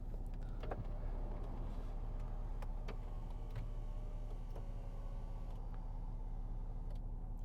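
An electric memory seat motor in a 2013 Range Rover Sport 3.0 SD V6 HSE hums steadily as the seat travels, with faint clicks and ticks over a constant low cabin drone, close and continuous.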